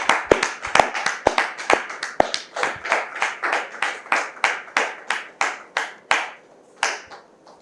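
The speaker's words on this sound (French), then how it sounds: "Recevons Samira sous vos applaudissements maintenant." Rhythmic, sharp hand claps welcoming Samira onto a stage, a steady beat of roughly two to three claps per second that continues for several seconds, then thins into a few scattered final claps.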